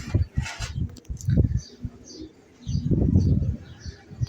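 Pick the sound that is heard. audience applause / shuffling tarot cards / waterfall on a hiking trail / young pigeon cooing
young pigeon cooing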